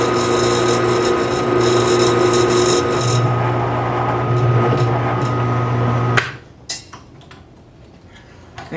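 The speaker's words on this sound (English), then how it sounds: "This is a step down drill bit, so it's really small and it goes bigger" A hand drill with a step drill bit whines steadily with a grinding, tonal hum for several seconds, then stops abruptly, followed by a few light clicks and handling noises.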